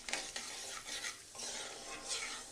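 Mustard and cumin seeds splutter and crackle in hot oil for a Telugu tomato pickle, a close, steady sizzle with scattered sharp pops and no talking.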